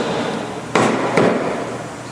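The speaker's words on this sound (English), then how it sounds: "Clamp the back portion of it, and then your rubber mallet." Rubber mallet knocking a Team Z undercar subframe connector into place on a car, two sharp, close, solid blows about half a second apart over a steady background hiss.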